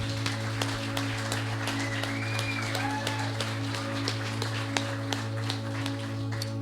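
A congregation claps together during a church worship service, steady scattered hand claps over a constant low hum, moderately distant and even in level.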